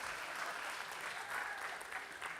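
A church congregation claps together in a brief, dense burst of applause that stays steady and fairly soft throughout.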